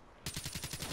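Video game gunfire begins abruptly after a short quiet moment, then a steady rapid-fire burst of roughly eight evenly spaced shots at moderate loudness, with no voices over it.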